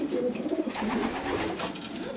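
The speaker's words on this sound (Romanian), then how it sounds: "Deci filmăm acum în volierele porumbelilor de matcă, generația 2020." Breeding pigeons, 2020-generation stock birds with males sitting on young, coo steadily in a breeding aviary in Bucharest, a dense close chorus of soft low warbling calls with no talk.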